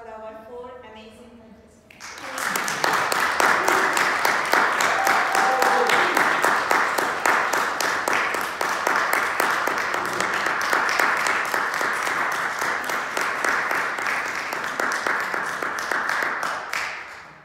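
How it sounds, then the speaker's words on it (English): After a brief spoken line, an audience at a 2018 Rotary Club speech contest breaks into loud, sustained applause that carries on steadily for about fifteen seconds, with some voices mixed in. "Let's give a huge round of applause for our 4 amazing"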